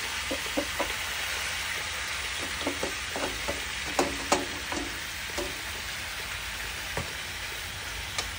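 Chopsuey vegetables sizzling and frying in a hot pan, a continuous hiss with scattered pops and clicks of stirring throughout, close and steady.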